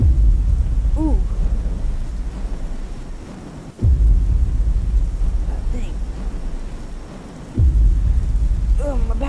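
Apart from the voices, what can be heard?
thunder and lightning in the video game Slender: Mansion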